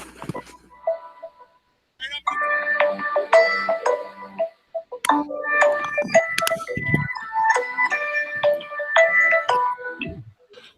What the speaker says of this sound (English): Somebody's got a phone ringing.